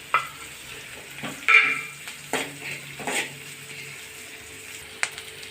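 Chopped onion and sliced green chillies sauté in a pan for a mango curry, a soft sizzle broken by a few sharp scrapes and knocks of a spoon against the pan, fairly close and without talk.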